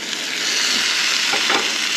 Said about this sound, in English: isn't that the bacon sizzling sound that we were looking for?